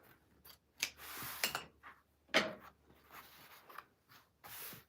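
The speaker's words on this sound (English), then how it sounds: "I just kind of folded it and use my scissors and chop a lop right across" Scissors snip across folded quilting fabric in a series of short, crisp cuts with brief pauses between them, close and moderately loud, with light rustling of the material in between.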